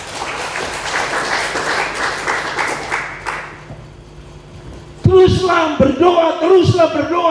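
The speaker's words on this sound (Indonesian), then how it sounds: "Kasih tepuk tangan itu Tuhan" A church congregation at a Sunday service bursts into applause for about three seconds, then it fades to quiet and a voice speaks loudly over the hall.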